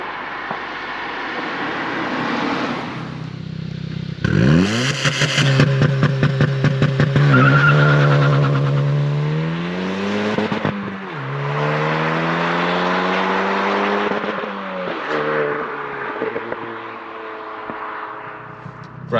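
Hyundai i20N launching hard under launch control from 4,000 RPM, engine roaring up through the revs with tires skipping and chirping against the pavement, loud and close, then easing off and building again.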